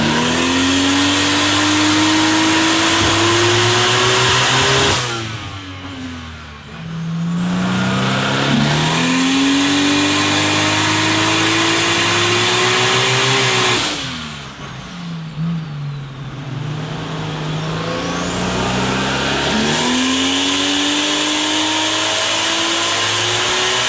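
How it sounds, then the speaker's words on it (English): A Holden race car is run up on a 3000-horsepower Mainline hub dyno, its engine loud and close as it climbs in pitch through long pulls, drops back, then revs up again. "the Holden is being run up on Tunnel Vision's 3000 horsepower Mainline hub dyno"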